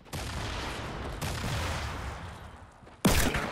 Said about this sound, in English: Grenade launching.